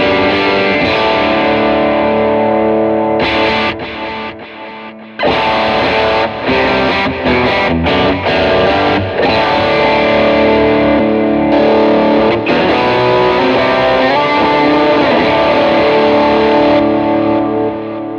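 Electric guitar through a Line 6 HX Stomp amp block ahead of wet effects, giving a loud, continuous distorted tone with sustained chords and a few brief drops, recorded direct with no talking.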